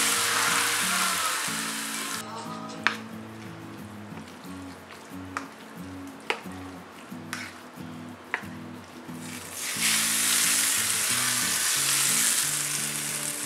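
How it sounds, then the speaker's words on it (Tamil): Mustard seeds spluttering and popping in hot oil for raw mango pickle, a steady loud sizzle broken by sharp crackling pops, with a background melody playing throughout. "எண்ணெய் நல்லா சூடாகிடுச்சு. ஸோ கடுகு போடுறேன். கடுகு பொரிய ஆரம்பிச்சிருச்சு."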